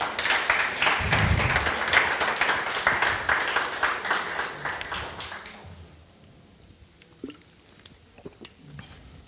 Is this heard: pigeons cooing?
no